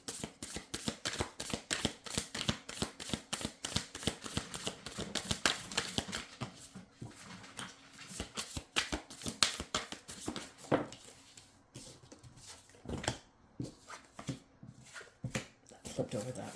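Tarot cards are shuffled and pulled by hand, a dense run of rapid riffling snaps and flicks up close, then sparser card slaps and taps as cards are laid down.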